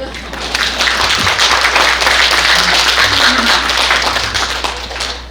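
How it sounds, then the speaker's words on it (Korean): An audience at a kindergarten school-facility briefing claps in a sustained, full round of applause, loud and even throughout over a low steady hum, easing off near the end. "박수 주시죠"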